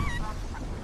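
A chicken clucks and squawks in the Fortnite video game, a short, honking fowl call heard over steady game background noise.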